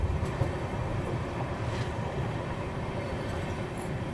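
The 12870 Howrah Express runs non-stop at about 130 km/h, a continuous loud rumble of wheels on track with steady rattling clatter throughout and no voices.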